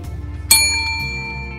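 A single bright bell ring at a speed dating event, a sharp metallic ding with a long ringing decay, set against a low background hum that shifts partway through.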